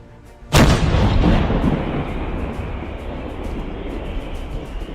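A single heavy artillery gun firing at the front line in Ukraine, one booming blast followed by a long rolling rumble that decays slowly, loud and close, with no speech.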